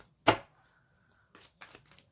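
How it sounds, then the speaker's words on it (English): Tarot cards being shuffled during a reading, one sharp riffling burst followed by a couple of softer card handling sounds, close by. "Last shuffle."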